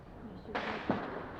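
Firecrackers going off during a Karwa Chauth celebration: two sharp, close bangs about a third of a second apart over a quiet background murmur.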